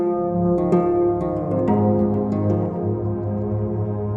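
Synth patch edited in Equator 2 and played on a ROLI Seaboard RISE 2, sounding as sustained, rich chord tones with soft note onsets, moderately loud and alone.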